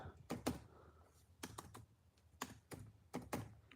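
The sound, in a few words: typing on a computer keyboard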